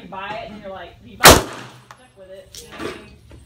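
A single sharp gunshot rings out at a gun club, loud and close, between stretches of nearby conversation, with a fainter knock or shot following a moment later.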